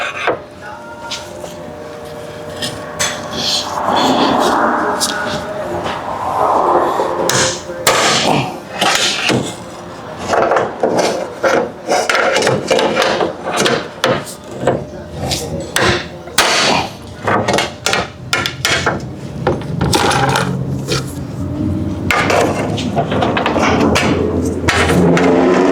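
A hammer and pry bar work on the CV axle of a 2014–2019 Toyota Corolla, giving rapid, loud, close metallic blows and knocks in irregular bursts that keep going with only short pauses.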